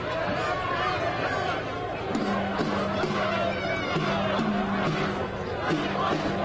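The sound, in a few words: protest crowd chanting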